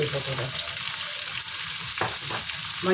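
Tomato sautéing in hot oil with turmeric powder and rock salt, a dense continuous sizzle close by with brief stirring scrapes, no speech.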